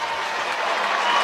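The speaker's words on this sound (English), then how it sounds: "There's the warm round of applause as the Pies walk down the race." A warm, steady round of crowd applause at an AFL football match between St Kilda and Collingwood rises as the players leave the ground, a broad, continuous clapping from the stands.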